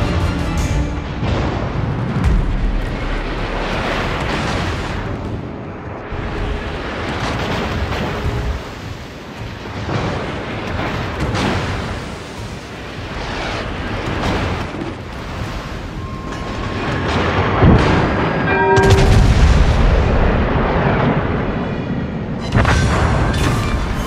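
Heavy naval gun salvos from the Colorado, a tier 7 battleship in World of Warships, boom in repeated deep blasts over a constant rumbling battle ambience, louder bursts around the middle and near the end.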